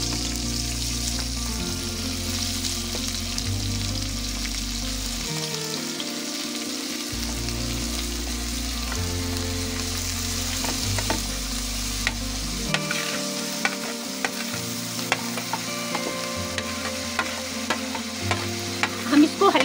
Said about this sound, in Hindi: मैंने ये 4 चम्मच ऑलिव ऑयल लिया है कढ़ाई में। अब हम इसमें जो है अपनी ये ग्रीन प्याज कैलकॉट डालेंगे।